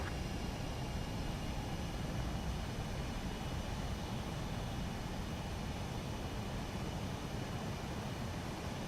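A fighter jet lands in the video game Ace Combat 7 with a loud, steady engine roar that holds unbroken throughout, with no other sounds over it.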